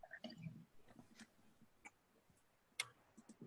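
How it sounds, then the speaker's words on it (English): Scattered, faint clicks and taps of keys on a keyboard come in an irregular rhythm in a quiet room. "Typing."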